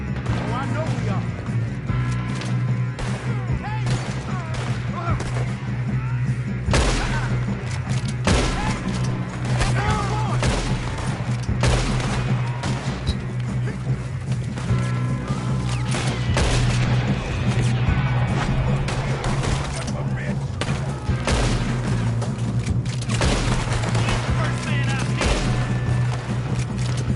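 Gunfire in Red Dead Redemption 2 crackles in repeated sharp bursts across a steady low hum, with several close, loud shots amid busy game noise and scattered voices.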